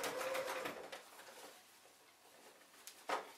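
A domestic sewing machine slowly stitches through roughly eight layers of denim while jeans are being shortened. It makes a quiet, labored mechanical whir with uneven ticking and a sharper thump near the end, with no talk.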